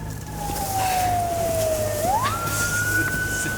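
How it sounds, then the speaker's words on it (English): Wailing siren with long pitch sweeps, falling and then rising, at a staged night border crossing event in Mexico; loud and steady with no voices, sounding like a police or emergency vehicle nearby. "There's gunshots, there's sirens."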